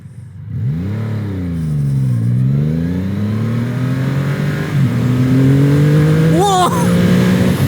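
A Triumph Rocket 3 Storm R motorcycle accelerates hard, its engine note climbing steadily in pitch through the gears with brief dips at each shift, loud and close with heavy wind rush throughout.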